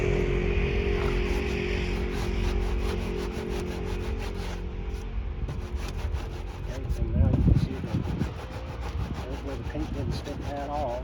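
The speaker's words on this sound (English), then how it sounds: "ideally, I will sand through to the white here" Steady rasping strokes of sandpaper working through paint and primer on a fiberglass car body, a close, continuous scrubbing sound with a brief louder surge partway through.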